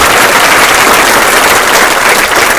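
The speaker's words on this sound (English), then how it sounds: "Let's give these contestants a great round of applause" Audience applause for graduation contestants gathering for a group photo at the Haleyville 2023 graduation ceremony: loud, dense, steady clapping from a large crowd, sustained throughout with no talk.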